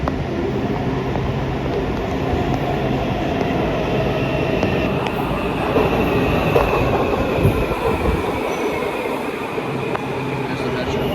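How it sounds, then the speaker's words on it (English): Yellow line metro train pulling into an underground station at Ronald Reagan Washington National Airport, a steady loud rumble of wheels and motor with some squeal, holding for about eleven seconds under station ambience. "Here comes the train. This is the yellow line."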